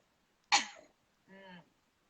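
A single sharp, forceful cough, followed a moment later by a shorter, voiced throat sound. Close and fairly loud, with no talking.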